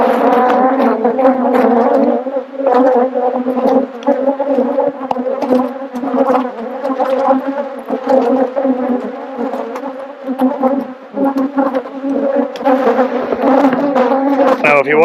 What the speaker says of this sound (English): the bees are attacking the GoPro